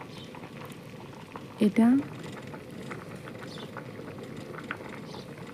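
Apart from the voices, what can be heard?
bamboo shoot and potato curry boiling in a pot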